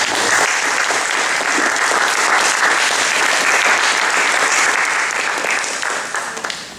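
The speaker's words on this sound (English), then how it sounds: "thank you for that round of applause" A large audience applauds steadily with dense, sustained clapping that tapers off slightly at the end.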